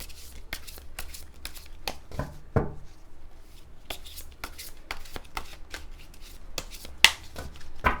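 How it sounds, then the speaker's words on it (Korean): Tarot cards being shuffled and drawn for a weekly reading, a run of soft papery riffles and flicks with a few sharper slaps and snaps, close up and moderately quiet, with no talking. "타로 카드 4장 뽑아서 이번 주 흐름 보겠습니다"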